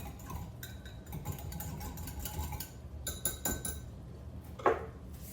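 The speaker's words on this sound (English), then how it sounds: "just give a little mix to our marinade." A utensil clinks and scrapes against a bowl while a marinade is stirred, giving light, irregular ticking taps up close and one sharper knock near the end, with no talk.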